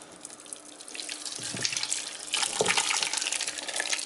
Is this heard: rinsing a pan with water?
yes